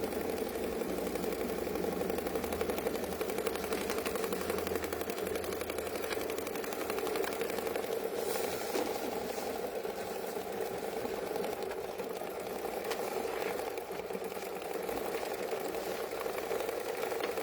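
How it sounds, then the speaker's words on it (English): A sewing machine stitches a fill stitch on a quilt with a steady, fast mechanical hum and rattle that runs unbroken and close throughout, with no talk. "Now I am going to stitch my fill stitch."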